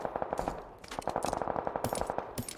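Rapid gunfire in PUBG Lite, a fast rhythmic string of sharp shots in two bursts with a short pause between, moderately quiet and with no talking.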